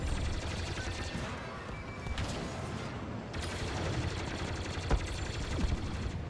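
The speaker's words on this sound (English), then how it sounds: "A little bit of turret action, just so I make sure I have enough for heroes" Rapid turret fire in the space battle of Star Wars Battlefront 2, a dense continuous stream of blasts over rumbling engine noise and explosions.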